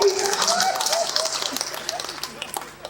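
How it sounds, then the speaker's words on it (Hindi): Audience clapping at a Hindi comedy poetry show (hasya kavi sammelan), a scattered round of applause running through the whole stretch, steady and moderately loud, with a voice breaking in over the claps. "सबसे ज्यादा तालियां अजय जी ने बजाई है।"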